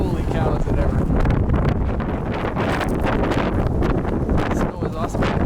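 Strong blizzard wind gusts roar continuously and loudly against the microphone outdoors, with a person speaking briefly beneath the buffeting.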